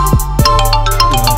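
A phone ringtone for an incoming call plays in a German rap track. It is a loud, bright electronic melody with quick repeated notes, heard alone for a brief moment.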